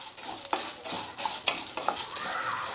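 Chana dal dry-roasting in a pan over a medium flame, with dry scraping and rattling strokes of stirring at an uneven pace, close and moderately loud, and no talking.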